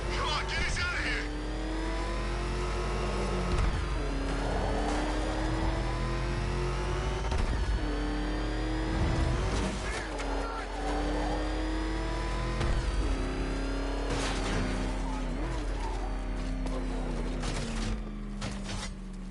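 Batmobile tank engine in the video game Batman Arkham Knight: a loud engine that revs up and down in repeated swells with a steady low drone beneath, heard under frequent voices talking.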